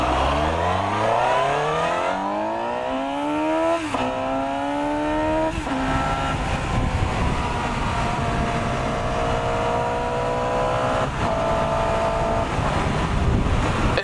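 A 2018 Suzuki GSX-S750 motorcycle with a Gixxer engine being ridden fast, its engine rising in pitch through the gears with brief dips at each shift, then holding a high whine under heavy wind rush.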